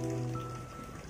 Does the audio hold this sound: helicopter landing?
no